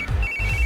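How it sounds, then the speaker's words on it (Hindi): A mobile phone ringtone sounds in a short electronic burst: two quick pulsed rings with a bright repeating tone, loud and close, with no talk. "इस वक्त दीदी का फोन।"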